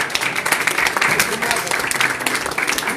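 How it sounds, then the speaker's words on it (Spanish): Steady crowd applause filling the room, a dense wash of clapping that holds at an even level throughout, with a voice faintly underneath. "Vale, un fuerte aplauso, por favor."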